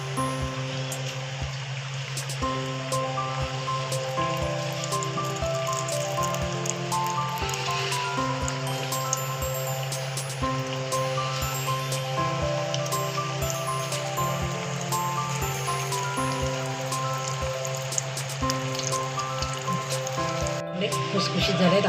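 Snacks frying in hot oil in a kadhai, a steady close sizzle and bubbling crackle running throughout, with a faint tonal hum beneath and no talk.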